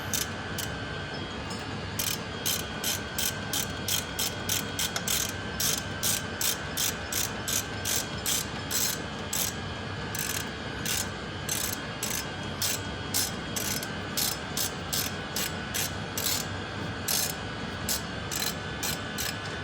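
A hand ratchet clicks in rapid, steady bursts while bolts are driven back in on a 2015 Chevrolet Silverado 5.3L water pump, the close metallic ticking running almost continuously with brief pauses between strokes, no speech.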